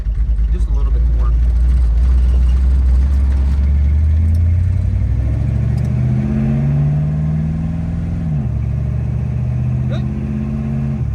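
A revived high school car with no hood drives along, its engine rumbling loud and steady up close and climbing in pitch as it accelerates, while someone speaks briefly over it.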